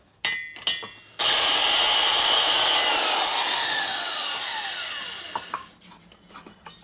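Valve seat cutter grinding the seat in a Harley-Davidson ironhead cylinder head from a 1977 XLCR 1000cc Sportster: a few short scrapes, then a loud sustained abrasive grind for about four seconds that fades into light clicks and taps.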